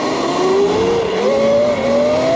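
A Sur-Ron electric dirt bike, a stock bike boosted with a TORP TC500 controller, accelerates under throttle with a loud, rising electric motor whine and tire noise climbing steadily in pitch throughout.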